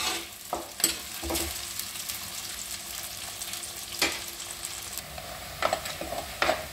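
Ingredients frying in a pan, a steady close sizzle broken by sharp clacks and scrapes of a spoon stirring at intervals, moderately loud with no voices.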